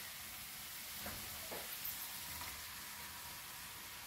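Prawns fry in a pan with a steady, even sizzle, close and moderately loud, with a few soft stirring scrapes and no talking.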